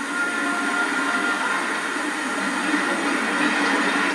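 A steam locomotive train runs on the line into Worcester, South Africa, 109 miles from Cape Town. It gives a steady, loud rolling rumble and hiss that holds even and unbroken, with no voices.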